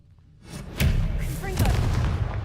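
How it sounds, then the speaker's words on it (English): An Expelliarmus spell cast in Hogwarts Legacy lands as a couple of punchy, booming magical impacts in quick succession, loud and close, amid game ambience and a voice. "Expelliarmus!"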